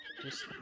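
A single horse whinny from The Legend of Zelda: Tears of the Kingdom rises and falls in under a second, clear and close.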